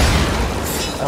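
An enemy blows up in Warframe, a loud, close, booming burst with a heavy low rumble that decays over about a second.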